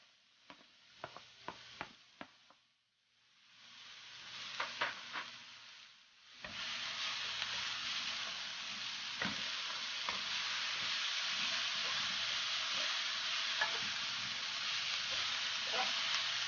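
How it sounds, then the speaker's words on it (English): Vegetables sautéing in a pan for veg puff filling, soft tapping stirs at first, a brief lull, then a louder steady sizzle that holds to the end with occasional stirring clicks. "saute this for 2-3 minutes."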